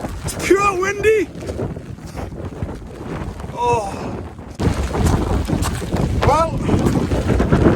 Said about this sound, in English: It's pure windy!